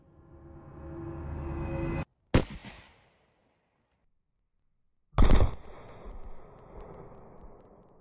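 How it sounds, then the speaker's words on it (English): .222 rifle rounds fired at a homemade body armor plate built from hardware store materials: a sharp, loud outdoor crack with a short decaying tail, silence, then a second heavy blast that trails off into rumbling echo. "will the plate be able to stop a 222 rifle round?"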